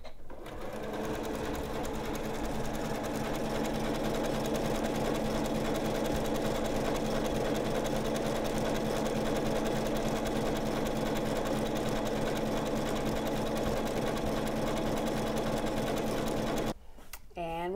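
A Janome sewing machine runs a long continuous stitch along rows of patchwork, a steady, even mechanical whir close up that stops abruptly near the end, with a voice speaking over it.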